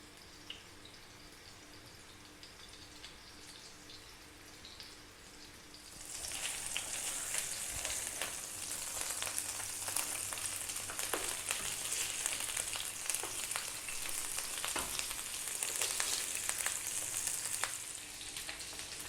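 Homemade burger patties fry in a pan; a quieter stretch gives way after about six seconds to a loud, steady sizzle broken by occasional crackles and scrapes as they are turned.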